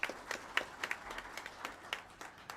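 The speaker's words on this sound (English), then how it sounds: "I request everybody out here to please give a round hand or applause to him" Applause at a professional accountants' seminar after a speaker's session, a small audience clapping in distinct, fairly sparse individual claps that thin out and fade over a couple of seconds, moderately quiet.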